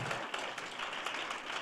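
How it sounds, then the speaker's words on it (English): A room applauds at a school board of education meeting, a brief, even burst of many hands clapping together at moderate distance. "Let's give him another round of applause for that."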